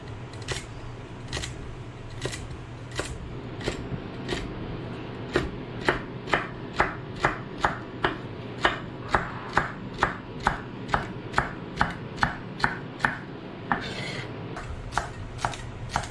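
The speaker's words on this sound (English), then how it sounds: "we're just gonna roughly chop up some celery, garlic, and some carrots for our fish stock or our seafood stock" Celery, garlic and carrots being roughly chopped with a knife for a seafood stock, a steady run of crisp, evenly spaced blade knocks on a board, close and clear, growing a little louder partway through.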